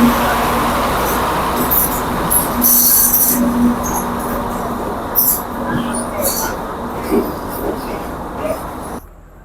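A night mail train rumbles steadily past nearby, wheels grinding with occasional high metallic squeals, before the sound cuts off abruptly.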